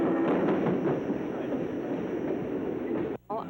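A passenger train, the Cannonball, rumbles steadily in a continuous rolling roar heard from on board, loud and close, with a brief dropout near the end.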